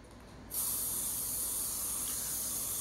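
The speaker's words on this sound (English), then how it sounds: "Just spray as you want." Aerosol spray paint hissing steadily onto a gothic sun hat, a loud continuous burst that starts abruptly after a brief quiet moment and holds without pause.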